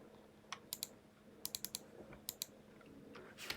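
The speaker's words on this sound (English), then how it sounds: "Ah, keyboard is stuck." Someone types on a computer keyboard with a stuck key while coding a linear regression. Crisp, close keystroke clicks come in short, irregular bursts with pauses between them over a quiet room background.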